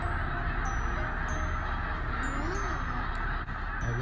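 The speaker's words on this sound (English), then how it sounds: "They're seagulls. You hear them?" A dense flock of seagulls calls continuously over a loud, steady outdoor wash, with overlapping cries and a few sharper high-pitched notes cutting through.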